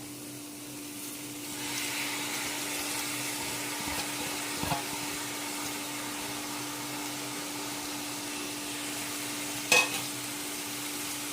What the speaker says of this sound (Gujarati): અને સરખી રીતે મિક્સ કરી દઈશું